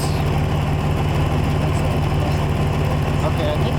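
A car engine idles steadily with a low, constant exhaust rumble close by, with people talking over it at a campsite.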